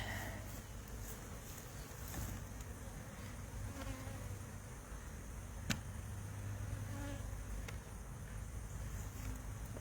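Honey bees buzzing in a steady, close drone around a beehive outdoors, a continuous hum with light wind noise and one brief sharp tap midway.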